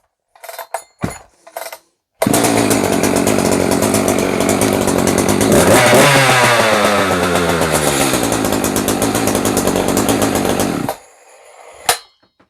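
Echo Legend chainsaw revved loudly and steadily for about nine seconds, with a few brief clunks and bursts before it and a short sharp knock after it cuts off.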